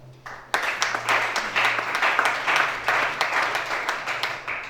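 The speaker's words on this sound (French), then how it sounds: "Acclamons chacun." An audience breaks into applause, a dense burst of clapping that starts suddenly and holds steady for several seconds, fairly close and loud over a low hum.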